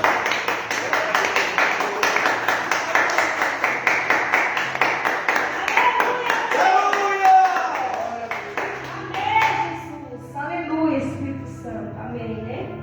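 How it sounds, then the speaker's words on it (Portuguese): A church congregation claps in a steady, rapid rhythm during a worship service, the applause running throughout under a preacher's voice and singing. "Aplauda o nome do Senhor."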